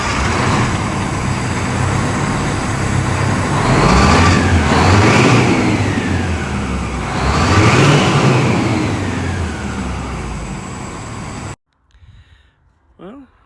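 A large Detroit Diesel 8V92 truck engine runs and revs nearby, swelling louder twice with deep rumbling, then cuts off abruptly, leaving near silence and a faint clunk.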